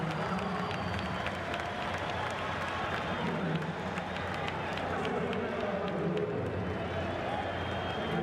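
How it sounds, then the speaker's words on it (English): Stadium crowd at a Concacaf Gold Cup match between Costa Rica and Panama applauding and cheering as two substituted Panama goal scorers leave the field, a steady dense roar of clapping and voices sustained throughout. "both goal scorers lifted for Panama to the ovation of the crowd"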